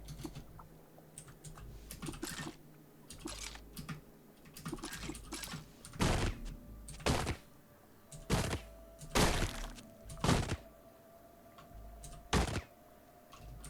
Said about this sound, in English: I guess you're firing quills. That's what we're hearing.